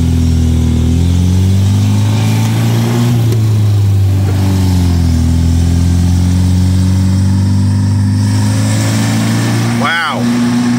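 An MGB car engine with SU HIF44 carburettors runs steadily at idle with a low, even rumble, close by, with a brief rev near the end.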